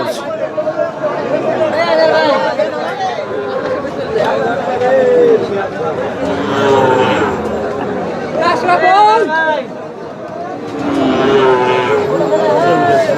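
Sahiwal-type cattle lowing repeatedly at a busy cattle market, drawn-out moos rising over a steady background of crowd chatter and voices.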